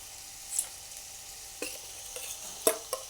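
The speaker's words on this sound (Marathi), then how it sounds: "मसाल्यामध्ये चांगला बटाटा आपण परतून घ्यायचा आहे" Mashed boiled potatoes sautéed in a spice masala give a faint, steady sizzle, with a few scattered, soft stirring scrapes and clinks that grow louder near the end, and no voices.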